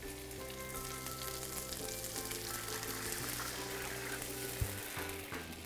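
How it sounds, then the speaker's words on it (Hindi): Water hits a hot pan with a steady hiss and sizzle throughout, close and continuous, while cooking chicken pulao. "So I am adding this water in the pan."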